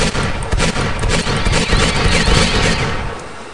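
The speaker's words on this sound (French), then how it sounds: "Donc après ici il y a le Magnum. Son bruit aussi est un petit peu exagéré." Exaggerated Magnum revolver shots from Ferulo's gun mod in a video game, a dense, loud barrage of booming reports running continuously with no pauses.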